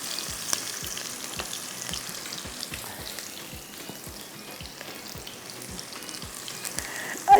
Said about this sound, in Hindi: ये रहे हरी मिर्च, प्याज, थोड़ा सा आपने इसको फ्राई करना है।